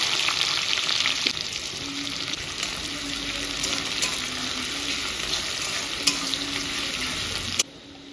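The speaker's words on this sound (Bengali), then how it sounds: "সর্ষের তেল দিয়ে দিচ্ছি, ফোড়নে দিচ্ছি জিরে আর শুকনো লঙ্কা, পেঁয়াজ" Onion, cumin and dry red chili fry in mustard oil with a loud, continuous sizzle and occasional stirring clicks, before the sound cuts off abruptly near the end.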